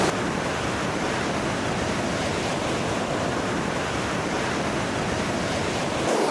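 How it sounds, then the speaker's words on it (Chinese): Big ocean waves crash and roll onto a sandy beach in a steady, loud wash of surf with wind noise, and nobody speaks. "哎呀，看这浪大吧。"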